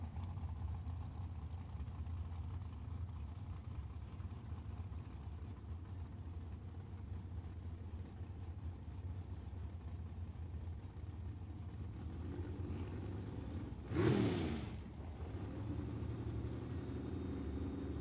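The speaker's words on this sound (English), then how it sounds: "we've got Scott Taylor in the 65 Chevelle and Dylan Moody rolling in out of El Paso" At a drag strip in Tucson, drag racing cars including a '65 Chevelle idle with a low, distant rumble. One brief rev swells up late before the engines settle back to a steady drone.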